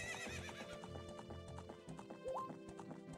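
A horse in the Ocarina of Time video game trots with steady clip-clop hoofbeats and gives a neigh partway through, all set over game music.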